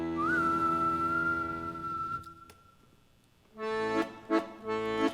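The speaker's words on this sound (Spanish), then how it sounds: "y silba su canción" A clear whistled note slides up and holds steady for about two seconds, followed after a pause by a few short, bright tonal notes.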